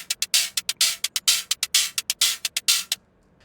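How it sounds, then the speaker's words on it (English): Rapid TR-606-style hi-hat hits synthesized in Phase Plant with stereo unison tick in a steady rhythm, bright and hissy, mixing short closed taps with longer open sizzles before stopping. "So now we get some cool stereo high end in our hi-hats, and it sounds like this"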